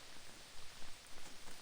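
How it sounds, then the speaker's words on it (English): Rain in a video game falls as a soft, even hiss of drops at low volume, with no other sound standing out. "It's starting to rain."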